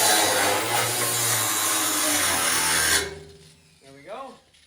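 A power tool cuts a small relief slot into the sheet-metal bed of a truck, a loud steady grinding roar that stops abruptly partway through, followed by a short burst of talk.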